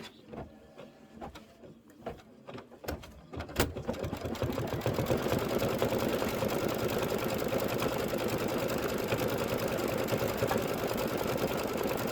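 A Kimberbell embroidery project runs on a sewing machine: a few scattered clicks and taps, then the machine starts stitching in a loud, steady, rapid mechanical whir that carries on unbroken to the end.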